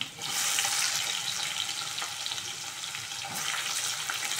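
A large onion sizzles loudly in hot oil in a pan for a leafy-greens dal, a dense continuous hiss with a brief surge as it is stirred; no voices.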